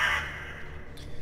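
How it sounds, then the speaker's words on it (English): A crow caws once, loud and near, in a horror video game, followed by a faint second call and quiet ambience. "More crows."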